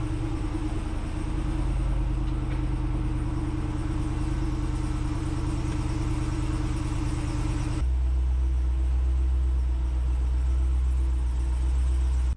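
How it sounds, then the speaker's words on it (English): A RAM heavy-duty 4WD truck's engine runs steadily in neutral, a deep continuous rumble with a jacked wheel spinning, the low drone shifting partway through as the drivetrain load changes, close and loud with no talking. "So we'll fire the truck up, put it in neutral, and we will spin this wheel"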